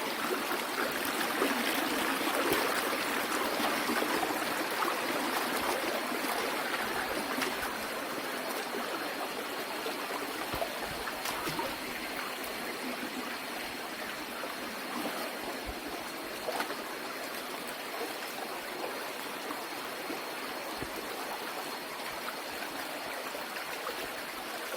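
A river stream rushes between rocks in hilly terrain, producing a dense, continuous roar of flowing water, steady and fairly loud throughout with no voices.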